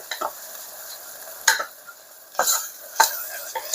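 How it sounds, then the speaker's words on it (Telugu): Ginger garlic paste is stirred in a pan while cooking a Telangana-style goat head curry, a spoon scraping the pan in a few distinct strokes over a soft, steady sizzle. "కొంచెం అల్లం వెల్లుల్లిపాయ పేస్ట్ వేసి చక్కగా పచ్చివాసన పోయే వరకు కలిపేసుకున్నాం చక్కగా."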